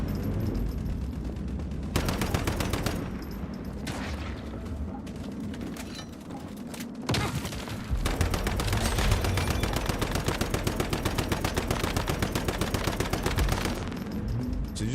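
Gunfire in the Once Human video game as a player shoots at hostile flowers: loud, rapid automatic bursts that rattle on almost continuously, with a brief pause midway before the shooting resumes.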